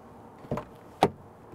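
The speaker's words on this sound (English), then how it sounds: "Then we're gonna go ahead and open the driver's side door." The driver's side door of a Class A commercial truck opens during a pre-trip inspection, giving two short, sharp mechanical clunks about half a second apart, close by with no talking.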